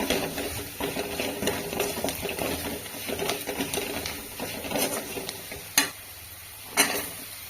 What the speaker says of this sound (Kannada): ಮೆಣಸಿನ ಹುಡಿ ಧನಿಯಾ ಪೌಡರ್ ಅರಿಶಿನ ಹುಡಿ ಸೇರಿಸ್ಕೊಂಡಿದ್ದೀವಿ ಇದೆಲ್ಲ ಚೆನ್ನಾಗಿ ಹುರ್ಕೊಳ್ಬೇಕು